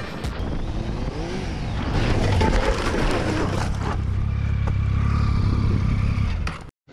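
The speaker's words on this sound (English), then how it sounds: "At least that was until Kamrad decided to show off his drifting skills." An adventure motorcycle drifts across a grass lawn, its engine revving loud and close as tires scrub and clatter, then the roar drops away abruptly near the end.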